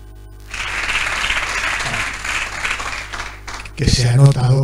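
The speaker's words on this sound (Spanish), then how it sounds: "así que cerramos con un fuerte aplauso por el Joan." Applause from an audience at a book presentation, a sustained wash of clapping that fades before a voice begins speaking.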